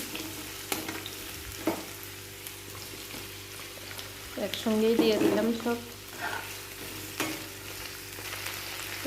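Onions and dried fish frying in hot oil, a low steady sizzle with occasional stirring scrapes, while someone briefly speaks over it in the middle.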